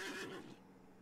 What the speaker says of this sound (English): Get on the horsey.